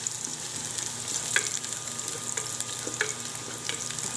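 Beef sizzling in a pan on an electric stove while being sautéed for papaitan, a steady soft frying hiss with scattered crackles and occasional stirring scrapes, fairly quiet and close.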